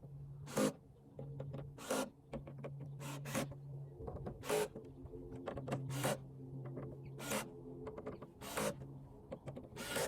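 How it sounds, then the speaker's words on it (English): A drill on a low setting driving bolts into a Toyota Tacoma tailgate for a flat panel: intermittent short bursts of motor whir with sharp clacks and handling noises, fairly quiet and close. "that's why I have my drill set to a very low setting."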